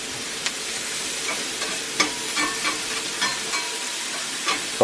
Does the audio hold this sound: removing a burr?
no